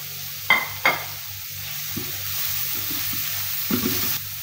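Garlic dropped into hot coconut oil with onion in a pan, giving a steady sizzle with a few sharp clatters and stirring scrapes near the start and end.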